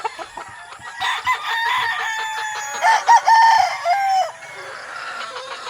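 A McLean broodstag rooster crows loudly and close, one drawn-out call with clucks and short calls around it, alone without talk.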